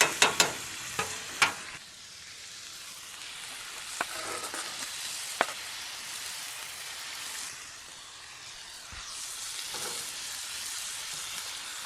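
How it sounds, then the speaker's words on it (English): Ground meat and onions fry in a pot for hearty soup, a steady broadband sizzle running throughout, with a few sharp spoon scrapes and clanks early on and scattered stirring knocks later, close and moderately loud with no voices. "Stirring the onions really good."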